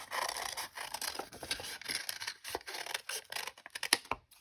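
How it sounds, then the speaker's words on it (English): Close-up scissors snip through paper in a steady series of crisp cuts and rustles, with no talking. "Take my scissors, and I'm going to cut along where I drew."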